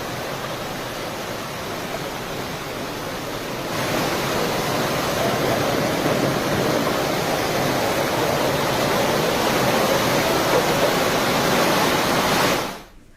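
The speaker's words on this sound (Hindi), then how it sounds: "मंदिर के पास ही से पहाड़ियों से पानी की तेज धारा नीचे उतरती नजर आई" Floodwater after heavy monsoon rain in Shimla pours in a fast torrent down the hillside near a temple. It makes a loud, steady, roaring rush with no talk, swells slightly partway through, then cuts off abruptly.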